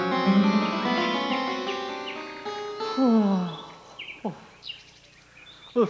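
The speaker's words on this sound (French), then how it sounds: "On entend le vent et les petits oiseaux." Small birds chirp and sing in a quiet forest, with clear, close melodic calls and short tweets over a soft, faint background of wind.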